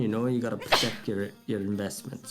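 A single sharp sneeze bursts out between stretches of casual conversation, brief and fairly close, with voices talking before and after it.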